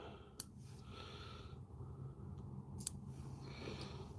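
Small scissors snip at fly legs while tying a fishing fly, giving two quick, crisp clicks a couple of seconds apart, close and quiet over a soft steady room hiss.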